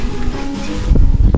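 Wind buffets the microphone in a loud, continuous rumble on a sunny lake, gusting harder toward the end.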